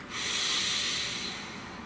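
A single long, slow breath drawn in and let out close by, a soft airy hiss that swells quickly and then fades gently over about two seconds.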